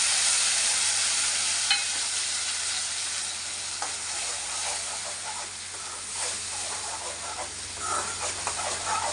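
An onion-tomato masala sizzles and hisses steadily in a hot pan with occasional stirring scrapes, close and fairly loud throughout, without any talk.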